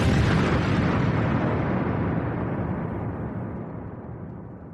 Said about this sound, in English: It was an enormous explosion.